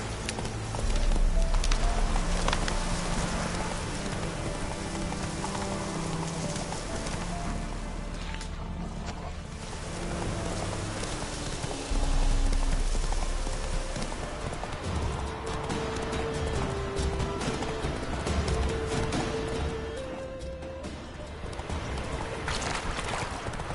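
Roach, a horse in the video game Witcher 3, gallops with rapid rhythmic hoofbeats that run steadily for the whole stretch, fairly loud and close, over a low background with occasional tonal sounds.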